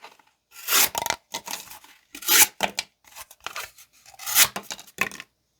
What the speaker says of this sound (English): And let's cut some cardboard.